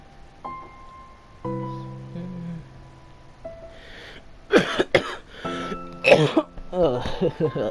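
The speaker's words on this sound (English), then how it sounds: "Why do I have to cough when I get nervous?" A few sharp coughs break out after soft musical tones, mixed with bursts of nearby speech.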